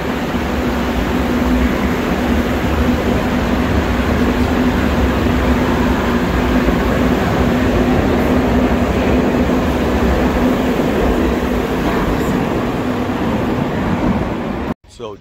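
A loud, continuous rumble of a packed subway train moving through a Madrid metro station, with a steady hum and roar that suddenly cuts off at the end.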